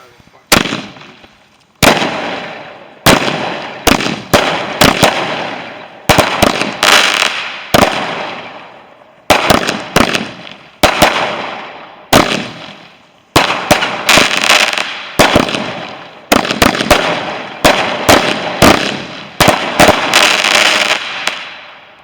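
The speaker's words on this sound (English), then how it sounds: "Last and final firework." Bonfire night fireworks explode in a rapid irregular string of loud, sharp bangs, each trailing off into a crackling decay, dozens of blasts over about twenty seconds with brief gaps between volleys.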